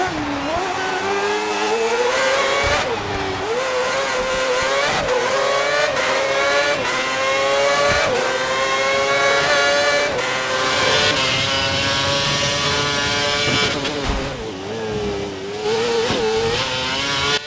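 Formula One race car engine from the F1 2011 video game screams through a lap, rising and falling in pitch with gear changes and brief dips, loud and continuous throughout.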